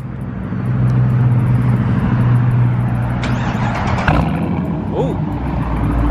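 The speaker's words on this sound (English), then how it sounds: "Let me hear them straight pipes" A Dodge Charger with a straight-pipe exhaust rumbles and revs loudly and close by, a deep steady drone with a brief surge partway through, while voices call out over it.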